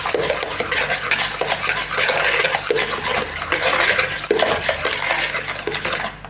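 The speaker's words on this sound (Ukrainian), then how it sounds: "знову перемішую" A utensil stirs thick batter of eggs, sour cream and curd cheese in a bowl, steady rapid scraping and clinking, close and continuous with no talking.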